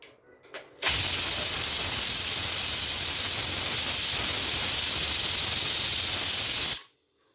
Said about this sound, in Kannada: 1 ವಿಜಿಲ್ ಬರೋಷ್ಟು ಕುಕ್ಕರ್ ಕೂಗಿಸ್ಕೊಡೋಣ